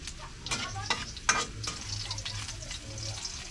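Garlic and Bombay onion fry in a pan, a close, steady sizzle broken by several sharp scraping stirs of a utensil against the pan, with no talk.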